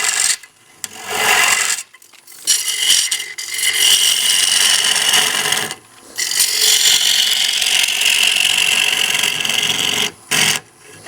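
A bowl gouge cuts a wooden bowl blank on a lathe, taking fairly aggressive cuts: loud, continuous rasping and scraping close by, broken by a few short pauses between cuts.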